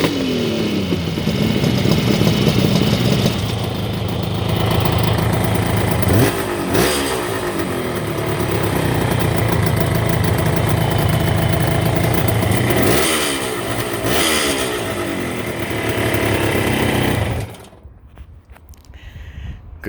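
A green Kawasaki 750 two-stroke triple motorcycle revs loudly nearby, with a throaty, rasping engine note that swells and settles through several throttle blips before cutting off near the end.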